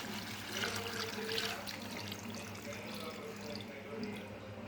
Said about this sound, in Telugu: కొంచెం చింతపులుసు వేసుకుందాం.